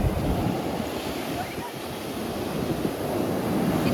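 Sea waves surge steadily onto a sandy beach, a continuous loud wash of surf mixed with wind noise on the microphone, with no break across the whole stretch.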